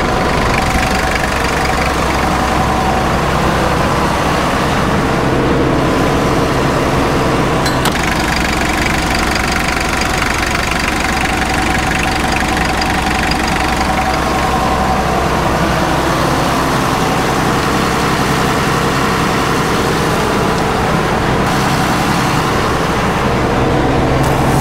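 An old Nissan King Cab pickup, now used as a refuelling tanker on a farm, drives with its engine running loud, rough and steady throughout, with a knocking mechanical drone and no talk.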